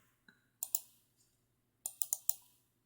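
Short bursts of computer keyboard typing, with one lone click, then a quick cluster of keystrokes, a pause and another rapid run of taps, crisp and close in a quiet room.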